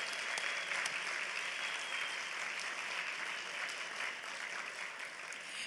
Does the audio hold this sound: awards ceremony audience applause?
yes